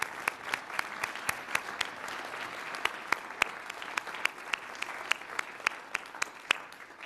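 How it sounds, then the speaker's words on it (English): Applause at a CTBT conference session honouring countries such as Sri Lanka, Timor-Leste and Tuvalu: light, scattered clapping from a hall audience with sharp individual claps standing out over a soft, steady background. "let's give them a round of applause"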